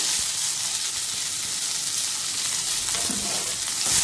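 Drumstick leaves fried in a pan with bottle gourd and poppy seed paste, giving a steady, close, hissing sizzle that runs throughout with faint stirring scrapes and no voices.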